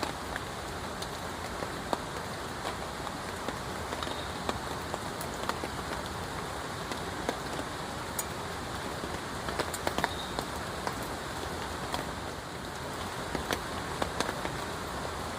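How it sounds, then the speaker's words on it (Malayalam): Steady heavy rain falls on a surface at a camp, a continuous close hiss with scattered heavier drops tapping throughout. "പുറത്തൊന്നും പോയിരിക്കുന്നില്ല, മഴയാ."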